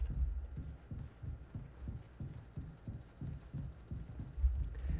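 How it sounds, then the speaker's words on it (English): A game heartbeat effect from the horror title Mouthwashing thumps in a steady, regular low rhythm, about two beats per second, soft and muffled with no talking. "Hey, I can feel my heartbeat."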